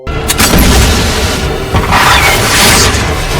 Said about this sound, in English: the explosion ripped through the air.